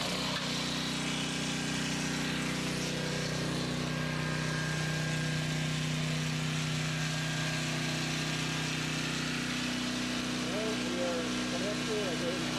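Portable generator running steadily while powering a 230V 18000 BTU air conditioner, a loud continuous engine drone with a constant hum that stays even throughout.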